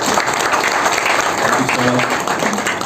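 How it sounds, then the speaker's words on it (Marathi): Applause from a crowd at a grand film trailer launch event, a steady continuous wash of many hands clapping throughout, with voices murmuring underneath. "सो विराटसाठी टाळ्या व्हायला पाहिजे"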